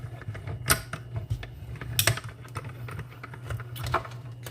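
A small mini die-cutting machine works through craft paper with a run of clicking, ratcheting mechanical snaps and creaks over a low steady hum, close and moderately loud.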